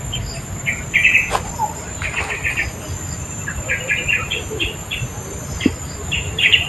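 Birds chirp and call repeatedly in short bright bursts outdoors, layered over a constant buzzing of insects or crickets, with occasional faint voices in the background.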